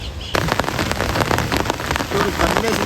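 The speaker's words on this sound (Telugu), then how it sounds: "వర్షం అయితే మాత్రం భయంకరంగా పడుతుంది" Heavy rain pours down outdoors over fields, a dense steady hiss of drops striking surfaces that starts abruptly and keeps up loud and close, with a faint voice briefly beneath it.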